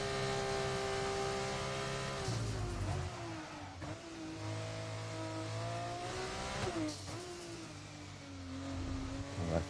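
A Formula 2 race car engine on a qualifying lap at Silverstone in a sim racing game, a high revving whine climbing through gears with brief dips on shifts, steady and continuous.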